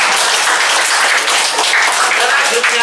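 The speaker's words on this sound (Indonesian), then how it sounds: "Tepuk tangan untuk kita semua." A class of schoolchildren applauding during a long-jump physical education lesson, loud, close, steady clapping from many small hands, sustained without a break and with no talk over it.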